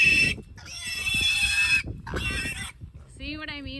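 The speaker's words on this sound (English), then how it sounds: "See what I mean about the squealing?" Young pastured pigs squealing up close in a bedded crate on a farm, long shrill squeals in three bursts with gaps between, followed by lower grunting tones and some background rustling.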